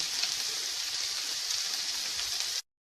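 Onions frying in a little oil, giving a steady, even hiss of sizzling close by that runs unbroken and then stops abruptly.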